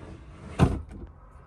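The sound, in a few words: opening a large art cabinet drawer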